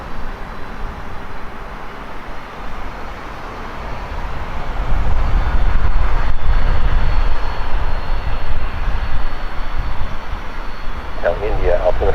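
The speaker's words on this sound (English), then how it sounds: "County 404 Heavy, fly heading 280," A heavy jet airliner rolls for takeoff from Portland Airport runway 28 left, its engine roar building to a loud, sustained rumble, with an air-traffic radio voice speaking over it.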